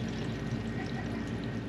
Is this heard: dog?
no